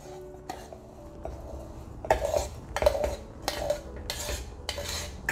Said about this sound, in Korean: 이것을 와인잔에다가 담아주면 됩니다.